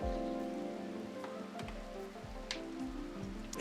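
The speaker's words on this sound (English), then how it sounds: "As everyone sleeps in the rain." Rain falls in the video game RimWorld, a steady soft patter with occasional drops, faint and continuous under low game music.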